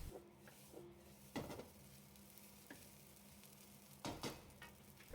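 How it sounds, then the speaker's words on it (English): Chicken nasi goreng is stir-fried over high heat in a wok, with a quiet, continuous sizzle and a few brief scrapes and tosses of the spatula. "Turn the heat back to high and stir fry for another minute or 2 to cook the vegetables slightly"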